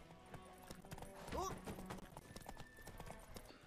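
Horse hooves clip-clop in The Witcher 3, a quick steady patter of hoofbeats running through the whole stretch, with a brief whinny partway in and game sounds mixed around them.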